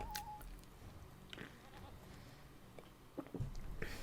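Goat mount in a video game set in Gundabad, giving a short bleat at the very start, followed by faint clatter and soft shuffling, quiet and fairly close.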